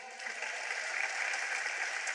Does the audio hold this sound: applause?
yes